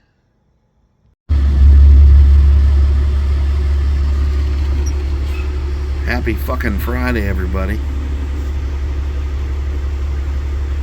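A 1971 Chevrolet C20 truck engine cold starts on a December day, catching abruptly and settling into a loud, steady low idle while someone speaks briefly over it.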